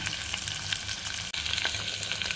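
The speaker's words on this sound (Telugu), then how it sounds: "దానిలోనే కొంచెం అల్లం వెల్లుల్లి పేస్ట్ కూడా వేసుకోవాలి" Onions, green chillies and ginger-garlic paste frying in a pan for a ridge gourd and dry prawn curry, giving a loud continuous crackling sizzle with scattered spits and stirring, with one brief dropout midway.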